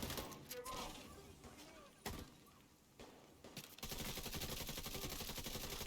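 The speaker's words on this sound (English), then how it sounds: "start shooting with a capacitor" Capacitor weapon fire in the video game The Division 2, a dense stream of rapid shots building into sustained fire in the last seconds, preceded by scattered impacts and game noise.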